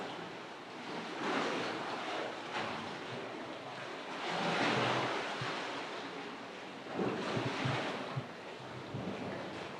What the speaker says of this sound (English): That's the water hitting the other end of the tunnel.